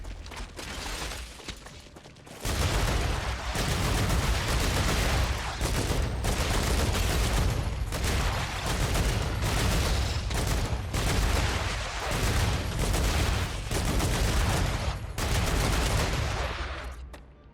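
Sustained video game gunfire in Star Rupture, dense rapid bursts of shots from several weapons running almost nonstop after a quieter opening, loud and close with no talk over it.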